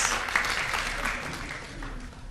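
Applause at a student debate held as part of a sustainability and sustainable energy exchange, moderate steady clapping that gradually tapers, with some voices mixed in.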